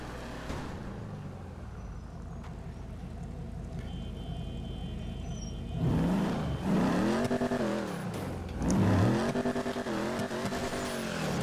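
Vapid Hotknife hot rod in GTA Online, its engine idling at steady length before revving hard in repeated surging bursts, loud and close with no talk over it.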